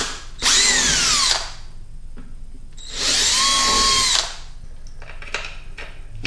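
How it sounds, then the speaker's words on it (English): A power drill bores out the mounting holes in a clear-coated carbon fiber rear fender for a 2006-up Harley-Davidson Dyna, running in two loud, sustained whining bursts of about a second each, separated by quiet pauses with faint handling noises. "So all you need to do is drill it out a little bit and then you'll be good to"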